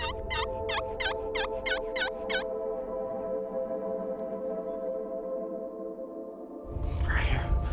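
Wild turkey gobbling back at a hunter's call, a rapid rattling burst of about eight loud, close gobbles in the first two and a half seconds, followed by quiet woodland and a rustling scuff near the end.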